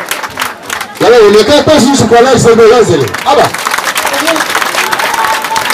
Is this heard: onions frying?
no